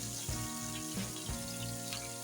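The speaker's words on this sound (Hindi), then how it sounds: "अब इसको हल्का सा हम फ्राई करेंगे।" Lobia curry frying lightly in a pan makes a continuous close sizzle with a few soft scrapes and knocks, with no talking.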